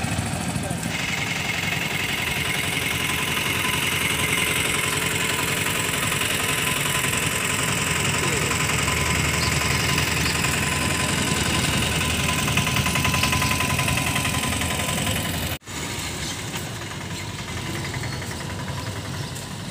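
Motorcycle engines idle steadily in a bike parking area outside a medical facility, a continuous low mechanical drone with vibration that holds throughout, briefly dipping near the end amid faint background voices.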